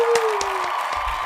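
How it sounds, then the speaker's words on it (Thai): Studio audience clapping to welcome a guest onto a Thai poker talk show, a steady patter of applause at moderate level with a faint tonal hum beneath. "ขอเสียงปรบมือต้อนรับนะครับพี่ปุณณพูนศรีครับผม"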